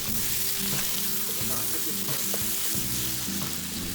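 Korean potato stew (gamja jjageuri) with potatoes and brown sugar sizzles steadily in a pan as it is mixed, a loud, continuous frying hiss with soft stirring scrapes and no talking.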